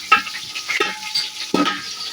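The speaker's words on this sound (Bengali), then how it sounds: "পেঁয়াজটা দেখো ভাজা হয়ে গেছে।" Onions fry in a pan with bay leaves, cardamom, cloves and whole garam masala for a chicken, potato and cauliflower biryani, giving close crackling sizzle and a few scraping stirs against the pan.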